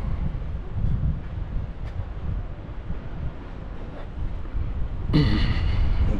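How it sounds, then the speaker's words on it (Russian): Cool wind blowing off the sea in Yalta in winter, a steady rushing buffet across the microphone that swells louder near the end, with no voices. "Ветер прохладный такой. С моря оттуда."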